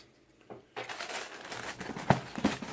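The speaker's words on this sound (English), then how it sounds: "So I'm going to grab the scissors" Scissors snip and crinkle through the plastic liner of a Cap'n Crunch Soccer Crunch cereal bag, a few sharp close cuts amid rustling crinkles.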